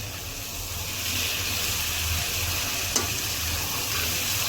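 Sweet pumpkin fries in a pan with a steady, loud sizzle and hiss. A single sharp scrape or clink from stirring cuts through the frying noise near the middle.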